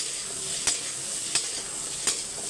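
Cut raw mango pieces sauté in a hot pan, a steady close sizzle broken by three evenly spaced sharp scrapes of a stirring spoon.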